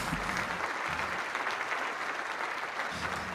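Steady applause and crowd noise fill the whole stretch, a dense even wash of clapping with a low rumble underneath, fairly distant and constant.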